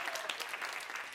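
A church congregation claps together in a short burst of steady, moderately loud applause filling the room.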